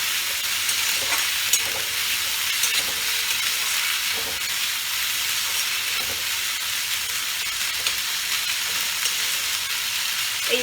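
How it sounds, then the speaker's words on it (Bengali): Spice paste for a Bengali shol fish curry fries and is stirred in a pan, giving a steady, loud sizzle and hiss throughout with faint scraping strokes and no talking. "মশলাটা কষা অবধি আপনাদের আমি দেখাতে চাই, যাতে টাইমটাও দেখতে পারেন, বুঝতে পারেন।"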